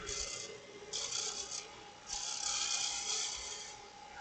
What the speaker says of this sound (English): it's smooth enough because this wood really sands really well